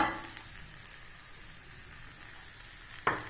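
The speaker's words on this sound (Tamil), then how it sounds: "இந്த சூட்லேயே அது நல்லா வறுபடும்." Chilli powder and garlic roast in a hot pan off the stove, a faint, steady sizzle near the pan, ending in one sharp clink.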